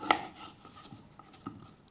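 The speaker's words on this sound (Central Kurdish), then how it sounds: "پیازەکان بەو شێوازەی وردەکەین، نامەوێت زۆر وردبی" Onions being cut with a knife on a board, a few separate soft chops with a sharper one at the start, sparse and close by.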